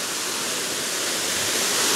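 Benarai waterfall in a forest and agency area, a steady broadband rush of falling water that stays loud and continuous throughout, with no voices over it.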